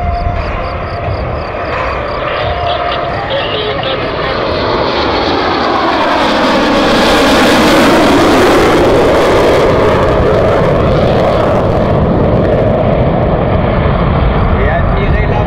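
Two Mirage 2000D jets roar through an airshow pass with afterburners lit. The loud, broadband thunder swells as they approach and fades with a falling pitch, and a voice talks over the engines.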